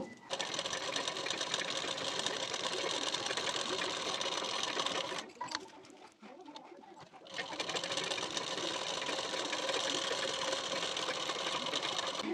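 A sewing machine runs steadily, stitching twice along the edge of a blouse belt, with a loud continuous whir that stops briefly midway and then resumes.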